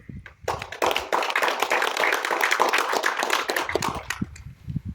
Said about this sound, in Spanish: Un aplauso para el ingeniero.